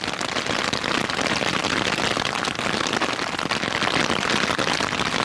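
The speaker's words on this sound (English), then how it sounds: "Some rain came through. It's hailed for a bit." Steady, dense rain and hail with hard pattering impacts, loud and close, in Montana's Absaroka-Beartooth Wilderness, continuing without pause and no talking.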